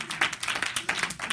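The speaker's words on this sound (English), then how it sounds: "Somebody clap their hands." Congregation clapping hands during a church service on prayer and intercession, a brisk, dense patter of many hands filling the short stretch at steady moderate loudness, without any voice on top.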